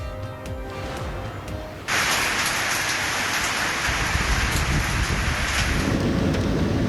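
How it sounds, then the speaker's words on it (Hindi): Torrential monsoon downpour pounds loudly and steadily on surfaces, suddenly intensifying after a quieter opening with scattered crackles, a dense roaring wash of rain with thunder in the mix, no voices. "बारिशों का धुआंधार स्पेल जारी।"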